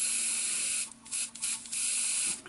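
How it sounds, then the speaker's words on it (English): An airbrush sprays water through to clear paint from between the reservoir and tip, a steady close hiss that briefly cuts off and restarts a couple of times before resuming. "Now I can do some spraying through"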